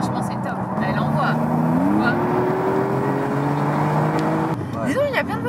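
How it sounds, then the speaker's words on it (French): A Porsche 911 (992 S Cabriolet) engine hums steadily from inside the cabin in sport mode, its pitch rising as it accelerates, with a constant road rumble underneath. "on roule actuellement en mode sport"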